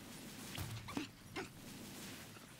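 A dog companion in the video game Monster Hunter Rise gives a few brief whimpers and yips, fairly faint, over steady game background ambience.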